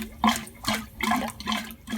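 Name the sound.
gulper pump pushing grey water out of narrowboat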